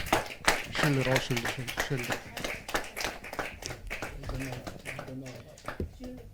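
Audience applause at a Hindi poetry gathering, a thin patter of claps running under a voice that talks over it throughout.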